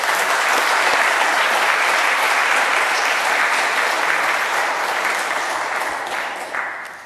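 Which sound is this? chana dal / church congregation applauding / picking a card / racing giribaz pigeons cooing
church congregation applauding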